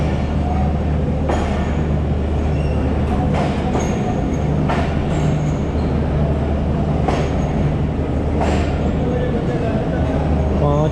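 Pakistan Express train 45 pulls out of Multan station with a steady low rumble of rolling wagons, a few sharp squeals and clanks rising over it throughout, and faint voices in the background.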